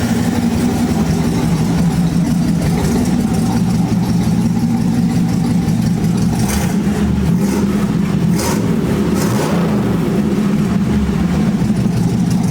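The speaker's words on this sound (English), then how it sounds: "I don't hear nothing up here about the motor. Nice and quiet." A 1948 Ford F1 custom panel truck idles close by, its engine blowing black smoke from the carburetor and holding a loud, steady, even rumble with slight fluctuations.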